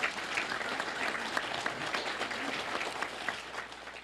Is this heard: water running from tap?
no